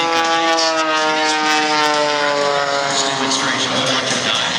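A Red Bull aerobatic airplane at the 2023 Miramar Airshow roars loudly with a steady propeller drone whose pitch slowly shifts as it dives and tumbles, with an announcer talking over it.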